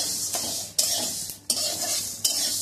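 Urad dal being dry-roasted and stirred in a pan: repeated scraping sweeps with a soft grainy rustle, each stroke starting with a sharp scrape, close and fairly loud, with no voices.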